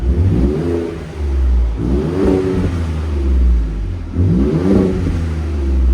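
A Ford Raptor's 3.5L EcoBoost V6 with an aftermarket exhaust revs up three times with short throttle blips, each rising in pitch then dropping back to a throaty idle, loud and close.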